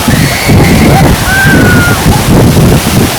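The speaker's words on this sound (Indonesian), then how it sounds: "kayaknya anginnya kencang ya" Strong wind buffets the microphone at a waterfall, a loud, continuous rumbling roar with gusty swells, and faint tonal whistles rising above it.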